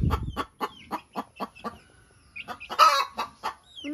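A hen named Tindeng clucks in a steady series of short, close calls on a farm, about eight evenly spaced clucks with a brief pause and then a louder, rougher squawk-like burst before the clucking resumes.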